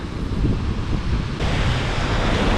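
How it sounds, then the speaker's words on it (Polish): Loud rushing sea waves mixed with strong wind buffeting the microphone, a continuous roaring wash with no voices. "większe na morzu, coraz większy szum i wiatr"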